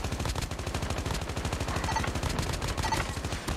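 Rapid automatic fire from an AK-117 Trapmaster rifle in the mobile shooter Call of Duty Mobile, a dense unbroken stream of loud shots running the whole time.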